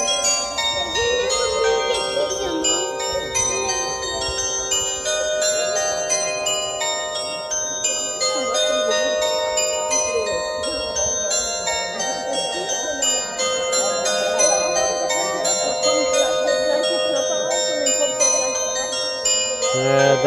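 Chimes on a building in Hamelin, Germany play the Pied Piper tune, a continuous melody of bright, ringing bell tones sounding loud and steady with faint background noise throughout.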